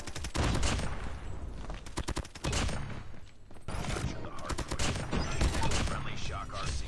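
Rapid bursts of automatic gunfire from a 64-round-magazine gun in the mobile shooter game COD Mobile, loud and clustered in fast volleys with game effects between them.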